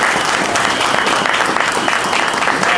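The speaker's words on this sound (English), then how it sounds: "let's give her a great round of applause" Audience applause at a Guardian Angels 36th anniversary event: dense, sustained clapping from a crowd, loud and continuous.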